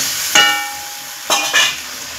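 Chicken kosha with a little added water is stirred in a pan: three sharp metallic scrapes and clinks of a spoon against the vessel over a low background hiss, close and without talk.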